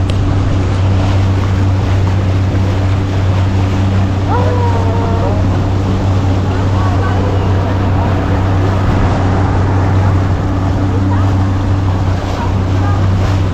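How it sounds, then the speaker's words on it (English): A steady, low water taxi engine drones on the water in a Brunei water village, with wind and faint wave wash around it. "There are a lot of this water taxi here."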